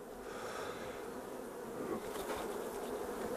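Honey bees fill a beehive super with a dense, continuous buzzing hum, close and steady throughout with no voices.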